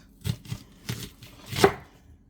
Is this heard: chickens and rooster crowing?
no